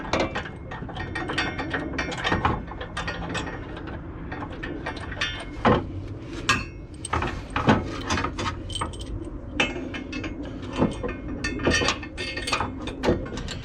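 A hand ratchet tightening bolts on a traction bar under a Honda CRX, with rapid ratcheting clicks in repeated bursts, some metallic clanks, close and fairly loud.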